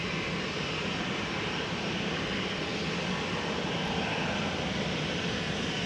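A KLM Boeing 737-800 at Amsterdam Schiphol Airport, its engines giving a steady, dense broadband roar that holds at the same level throughout, heard at a distance with no voices.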